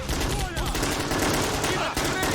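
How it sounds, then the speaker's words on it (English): Machine gun firing in the war video game Army Men of War during a street battle in a city; dense, loud bursts of gunfire and explosions run continuously, with voices mixed under the battle noise. "You've got a machine gun."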